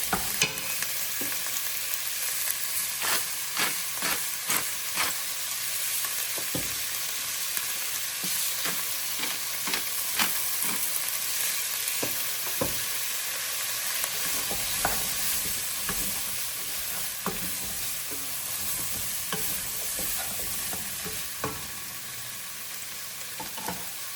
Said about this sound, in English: Stir them in. Mix it up.